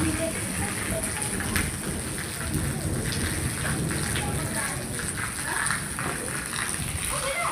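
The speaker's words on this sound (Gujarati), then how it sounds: "વીજળી ખતરનાક થાય છે ને વરસાદે જબરજસ્ત આવે" Heavy rain pours steadily throughout, with low rumbling thunder rolling underneath; a dense, continuous downpour close by.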